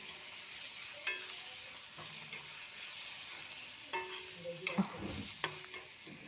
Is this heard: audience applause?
no